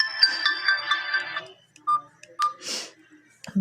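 Ringtone previews from a Q Mobile Razar Z gold phone play in quick succession: a bright warbling melody, then short single beeps and a brief hiss, close and clear.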